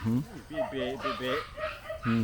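A duck at a rural fish pond in the Philippines gives a few short harsh quacks and honks in quick succession, fairly close and loud, with a person talking around it.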